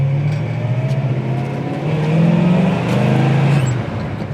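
A 1967 Chevy Nova with a 283 engine runs loud and close, its low burbling exhaust rising and falling as the engine is revved, with a steady rough pulse throughout and no voices.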